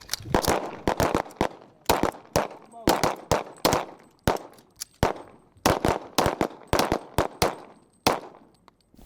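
Rapid rifle gunshots ring out during a firearms training drill in the Arctic, sharp loud reports in quick bursts with short pauses between strings of shots, close and echoing.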